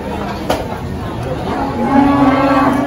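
A calf moos on a farm, a sustained bellow rising near the end of a short stretch of barnyard background with faint voices.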